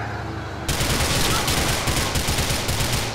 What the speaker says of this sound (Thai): ไม่มันยิงแรงวะปืนมันบวกสิบยังไงวะ